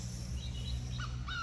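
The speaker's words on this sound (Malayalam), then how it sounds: "എന്തോ പക്ഷി അവിടുന്ന് കരയുണ്ടല്ലേ" A bird calls out in the distance on a hillside outing, giving a few short chirps in the second half of the clip over a steady low rumble of wind or ambient noise.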